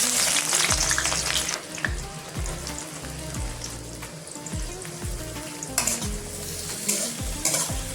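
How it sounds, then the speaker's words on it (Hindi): Chopped onion frying and sizzling in hot oil in a kadai for keema aloo matar, with a constant loud crackle and repeated stirring scrapes of a spoon against the pan. "तेल ऐड कर देंगे, मैं इसी तेल पे ऐड कर देंगे, प्याज को ऐड कर देंगे।"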